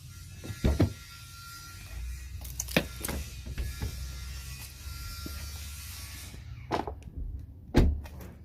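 A Toyota Highlander door, just refitted with adjusted hinges, is opened and handled, giving several sharp clunks and latch clicks over a steady low hum, close and fairly loud.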